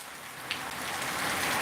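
Rain falls in a steady, dense hiss that swells slightly louder toward the end, soft and continuous with no voices.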